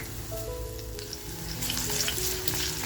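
Garlic dropped into hot oil in a kadhai for a Hilsa fish curry sizzles steadily and close, the frying hiss swelling louder partway through, with no talking.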